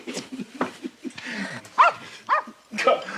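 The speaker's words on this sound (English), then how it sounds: "Call off your dog, Bossy." A dog barks several times in sharp bursts, mixed with whimpering yelps, under and between overlapping voices in an indoor scene.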